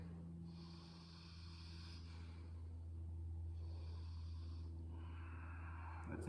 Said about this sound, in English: Two more deep inhales and exhales here.